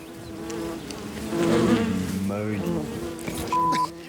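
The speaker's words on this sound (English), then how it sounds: "There's 3 wasp nests, and we're going to have to go through." Wasps buzz around three nests at a lion den, a dense, close insect drone that swells and fades as they fly past, with a person talking at times.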